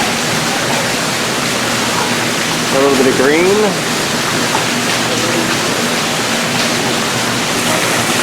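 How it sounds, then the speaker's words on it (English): Steady roar of a waterfall at the Detroit Zoo, a continuous broadband rush close by, with birds chirping over it and a person speaking briefly. "Right by the waterfall,"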